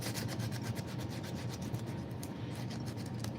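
Steady, rhythmic back-and-forth rasping of 120-grit sandpaper working over dried glue on a knife, close and continuous with no talking.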